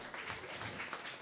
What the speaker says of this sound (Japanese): 勝者ジーク、佐賀にも大きな拍手。